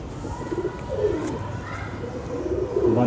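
Pigeons coo softly in low, rolling calls close by, with some faint background chatter and rustling.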